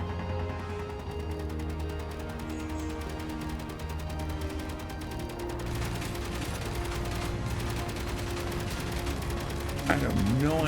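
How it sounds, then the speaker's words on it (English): Video-game gunfire rattles through a battle scene in Quest For Peas, steady bursts of shots over a dense layer of game music and ambience, with a sharper sweeping effect near the end. "I have no idea where these shots are coming from and where they're currently hitting"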